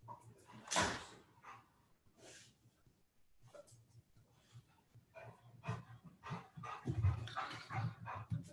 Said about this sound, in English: I gotta get this dog.